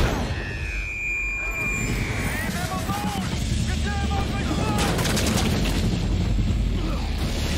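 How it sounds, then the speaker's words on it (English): Gunfire in Wolfenstein: The New Order, a dense burst of sharp shots and booms over a busy game background, with talk mixed in. "normally you're trying to kill the guards, shooting to the head like that"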